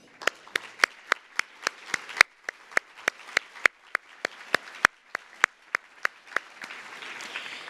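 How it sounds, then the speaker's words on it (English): A lone pair of hands claps at a steady, deliberate pace, about twenty sharp slaps at an event celebrating women innovators, each clap crisp and distinct against a quiet room. "So I would like to applaud all of you"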